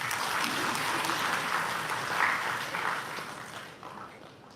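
An audience at a Bihar education department event claps steadily after the education minister prompts them, a dense continuous patter of many hands that tapers off toward the end.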